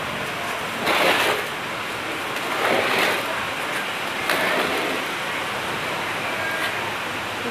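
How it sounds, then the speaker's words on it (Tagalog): Steady rain falling at the start of the rainy season, a broad even hiss with a few louder swelling gusts, no voices. "It's raining na."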